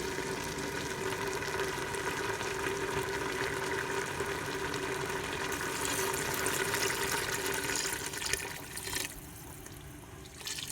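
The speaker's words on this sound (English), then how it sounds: "now it's time to add our water and beef stock" Water and beef stock pour steadily into a soup pot of wilted cabbage for vegetable beef soup, a continuous close splashing gush that eases off near the end.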